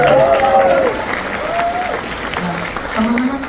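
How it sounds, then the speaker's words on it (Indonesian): Crowd applause at a packed public gathering in a Pontianak coffee shop, steady clapping throughout with voices and a speaker's words mixed over it. "Boleh untuk menutup segmen ini tepuk tangan dulu dong"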